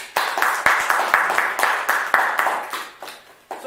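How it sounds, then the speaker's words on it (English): An audience claps at a live talk, a scattered round of applause with sharp individual claps that thins out over a few seconds. "So claps for all of you."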